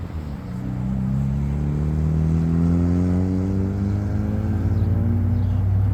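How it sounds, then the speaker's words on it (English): A car races and accelerates past a city intersection at Crystal Drive and Metro Parkway, its engine rising steadily in pitch as it revs, a loud, sustained rumbling whir with no talk over it. "Of course, now people are racing down here."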